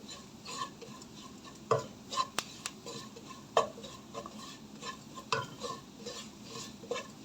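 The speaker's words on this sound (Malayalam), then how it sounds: "രണ്ട് ടീസ്പൂൺ ഉപ്പ് നമുക്ക് ആദ്യമായിട്ട് കൊടുക്കാം പിന്നെ നമുക്ക് നോക്കിയിട്ട് പിന്നീട് ഇട്ട് കൊടുക്കാം നന്നായിട്ട് ഇളക്കി കൊടുക്കാം" Fish curry with salt being stirred in a pan, a steady low simmering bed broken by several sharp scraping and clinking strokes of a spoon against the metal.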